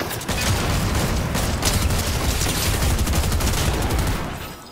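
Rapid bursts of gunfire crackle through a Fortnite match, shots overlapping in a dense, loud barrage for several seconds before tapering off at the end.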